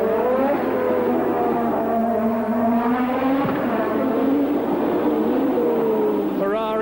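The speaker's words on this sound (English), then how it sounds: "You see the flames punching out of the exhaust pipes as he goes over onto the overrun." A Formula One race car at the Long Beach street circuit, its engine on the overrun with a falling, wavering pitch, loud and close, while a commentator talks over it.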